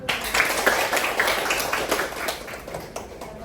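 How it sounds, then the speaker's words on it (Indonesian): Children in an Indonesian classroom clap together, a dense burst of many small hands applauding steadily for a few seconds before tapering off. "boleh beri tepuk tangan dulu."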